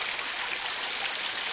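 Water draining through a concrete tunnel, a dense, steady rushing hiss with no breaks, echoing and close.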